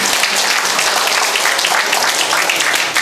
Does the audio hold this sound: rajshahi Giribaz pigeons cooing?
no